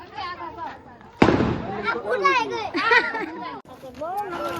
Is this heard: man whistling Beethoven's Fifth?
no